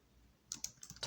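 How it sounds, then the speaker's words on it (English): Quick, light keystrokes on a computer keyboard while a search is typed, a handful of close, faint clicks in under a second over a quiet room hum. "Let's type in red shield with oval"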